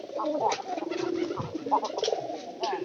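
Domestic pigeons in a home loft coo steadily and close by, their soft throaty calls overlapping in a continuous, gently pulsing murmur.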